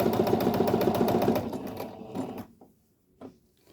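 Sewing machine stitching fabric for a child's vest, a rapid rhythmic needle chatter running loud for about two seconds before slowing and stopping, followed by quiet handling of the cloth.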